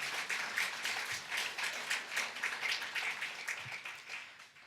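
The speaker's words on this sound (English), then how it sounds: "You can applaud if you want" Audience at a human rights charter event applauding a panel introduction, a dense, steady wash of many hands clapping at moderate distance, fairly quiet and unbroken, with no talk over it.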